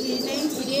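Pigeons at a farm coo in a low, continuous murmur close by, with soft chirps and a faint flutter of wings running through the whole short stretch.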